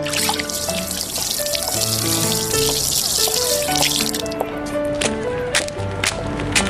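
Water poured from a tap or container into a small dish for a kitten, a continuous splashing trickle with faint clinks, steady and close, with no talking over it.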